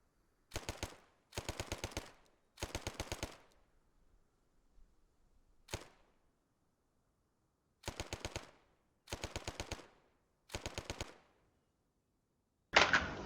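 British submachine gun from the IFA3 mod in Arma 3 firing seven loud, clean bursts of rapid shots separated by short pauses, with a single isolated shot in the middle and a sharp mechanical clack at the very end.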